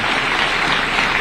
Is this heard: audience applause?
yes